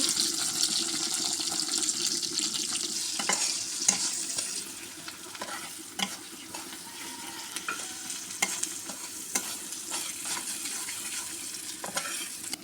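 Chopped garlic and onion frying in a pan for a Bengali egg-and-potato dal with taro-leaf ghati, a steady sizzle with scattered stirring clatters, close and alone with no talking.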